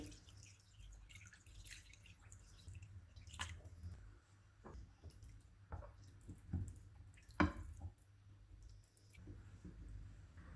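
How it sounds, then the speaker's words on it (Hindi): Water and vinegar poured over raw chicken wings in a bowl until they are covered, heard as soft, quiet drips, splashes and squishy wet sounds scattered across the stretch, with no talking. "पानी डालेंगे जितने में विंग्स डूब जाएं।"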